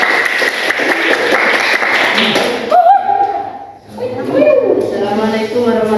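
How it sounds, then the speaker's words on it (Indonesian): Students in a classroom clap for a couple of seconds in a brisk patter of applause, then it stops and a close voice begins speaking. "silakan kasih tepuk tangan dulu"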